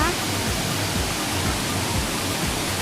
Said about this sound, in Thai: ที่นี่ก็คือน้ำตกแก่งโสภานะครับ